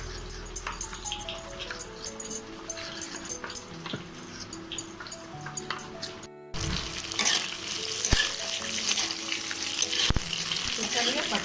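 Spices fry in a pan with stirring clatter, quieter at first, then a louder, steady sizzle takes over.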